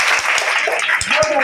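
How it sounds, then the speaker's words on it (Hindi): An audience claps loudly at a devotional quiz gathering about the Bhagavad Gita, producing a brief, dense burst of applause with voices audible over it. "एक बार जोरदार तालियां"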